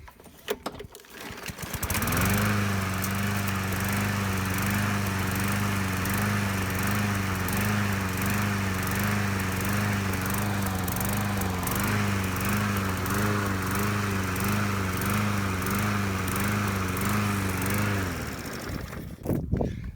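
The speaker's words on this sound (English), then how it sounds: "I started this thing up and it looks like it's out of gas" A lawn mower engine, started cold and later found low on gas, runs loud and close with a steady buzzing drone for about fifteen seconds before cutting out near the end.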